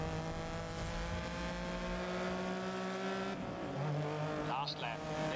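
A race car engine in GRID drones steadily through a final lap, holding a sustained engine tone that shifts pitch as it revs, with a brief tire-squeal flourish near the end and a voice talking over it.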